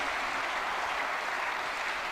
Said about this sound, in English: you can hear the crowd roar